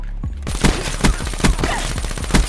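Video game gunfire from a shotgun fight rings out as a run of sharp, loud blasts with a heavy rapid volley in between, close and without talk.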